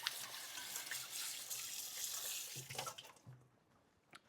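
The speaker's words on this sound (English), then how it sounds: "I'm going to wash my fingers real quick" Fingers rinsed under a running kitchen tap while making focaccia dough, a soft steady stream of water with a few splashy changes as the hands move, then the flow stops near the end.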